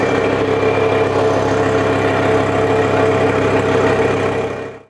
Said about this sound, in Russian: Здесь завели ламбу!